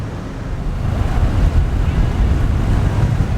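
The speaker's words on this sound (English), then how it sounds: "we are on the beach. We are cruising down the beach" A vehicle cruising along a beach in Ishikawa, Japan, with a heavy, steady low rumble of engine, wind buffeting and surf blending into one loud continuous roar, building slightly after the start.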